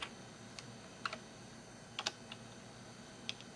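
Sparse, quiet keystrokes on a computer keyboard, a few isolated clicks and short double taps spread irregularly over a faint room hiss, with no talking.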